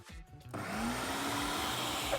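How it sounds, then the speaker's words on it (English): After a brief quiet start, a blender blade whirs into a steady high-pitched spin on a pistachio ice cream base in a Ninja CREAMi Deluxe, running alone for about two seconds. "I'm just going to do a little manual pulse on the blender just to make sure the salt is firmly incorporated"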